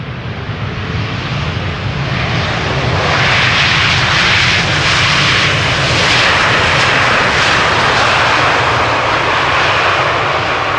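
A KLM Boeing 787-9 airliner arriving from Boston touches down on Schiphol's Polderbaan in Amsterdam on a hot day, a loud, close, sustained engine roar that builds slightly and holds steady, with no talking.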